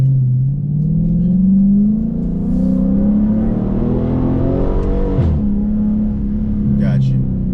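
Dodge 392 Hemi or Hellcat V8 with exhaust vent open, loud close rumbling rev that climbs steadily then drops back to idle, a brief voice near the end.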